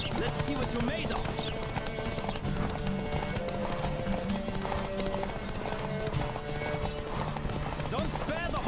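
Horse galloping hard in a race in The Witcher 3, hoofbeats pounding steadily throughout with an occasional whinny, beneath constant music and game ambience.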